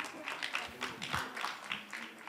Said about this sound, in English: a round of applause for Abhishek ji